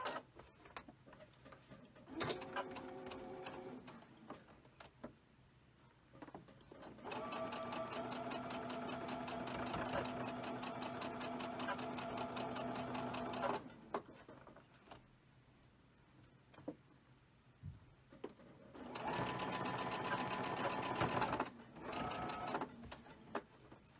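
A home sewing machine stitches a quilt block in three bursts of steady, rapid mechanical running, each separated by quiet pauses with light handling noises. The machine sounds close and clear.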